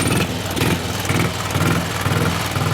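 Pre-war Vincent HRD Comet vintage motorcycle, just kick-started, its single engine running loud and close in a rough, lumpy rhythm with throttle blips, no voices.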